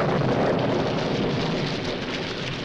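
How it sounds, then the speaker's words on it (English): Dense, steady rain hiss with a low rumbling undertone, continuous and fairly loud, gradually easing slightly. "Rain."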